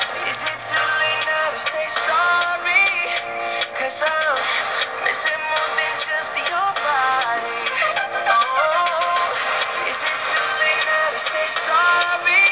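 A pop song with a driving beat and layered vocals and synths plays continuously at a fairly loud level.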